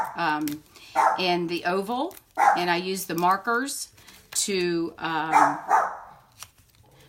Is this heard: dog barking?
yes